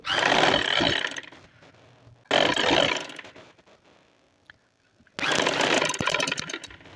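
Sewing machine stitching palazzo pants, running in three loud bursts of steady mechanical whirring separated by quieter pauses with faint handling sounds.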